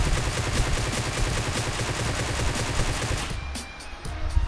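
Rapid automatic Groza rifle fire in the PUBG Mobile video game, a dense continuous stream of shots that stops near the end, leaving brief scattered sounds.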